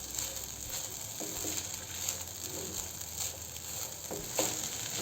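Soaked sago and potato khichdi is stirred in a pan over low heat, giving a soft, steady sizzle with gentle scraping and stirring rustles at intervals, close and quiet, with no voices.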